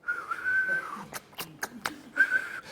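A voice imitates Samuel Johnson's half whistle: breathy whistled tones at the start and again near the end, with sharp mouth clicks and clucks between them, close and fairly quiet.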